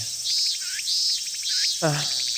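Cicadas from the visual novel ef: The First Tale on a hot early-summer day, a steady shrill buzzing chorus with repeating rising trills, upfront and continuous, with no voices.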